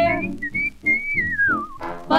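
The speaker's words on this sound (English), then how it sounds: "that whistle means Billy Boy is here" A single person whistles a sliding, wavering melody line in a 1940s swing song recording, clear and close, weaving between band and vocal passages.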